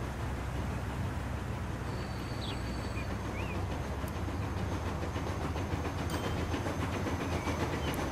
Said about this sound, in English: There's the rollout of our brand new trains.